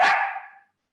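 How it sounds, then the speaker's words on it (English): A single dog bark, close and sharp, fading out within half a second into silence. "Sorry, that's my dog."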